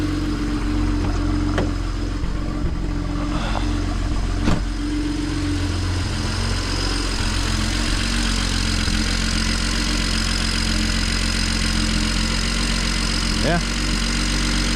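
A modified 400 hp BMW 335is sits idling with a steady, close, throaty rumble and faint vibration throughout, while someone speaks briefly over it.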